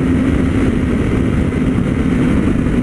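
A Honda CB1000R motorcycle engine roars loud and close throughout, a steady dense drone with no gaps and no talking.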